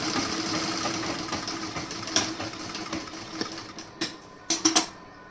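A sewing machine runs steadily, double-stitching a shoulder seam in garment stitching with a continuous whirring buzz. It slows toward the end into a few separate clattering stops and starts, close and fairly loud.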